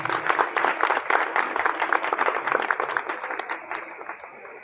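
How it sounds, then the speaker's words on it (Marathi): Applause from a seated audience at a community service association's 75th-anniversary diamond jubilee ceremony, marking a souvenir booklet's release: dense, steady clapping that swells at the start and gradually tapers off. "जरा जोरदार आणि बहारदार टाळ्या होऊन जाऊ"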